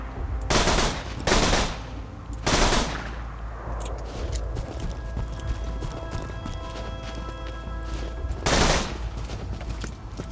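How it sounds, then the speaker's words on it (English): Machine pistol fire in Borderlands 2 rips out in several loud, rapid bursts, each about a second long, with gaps between them and game ambience humming underneath. "All machine pistols."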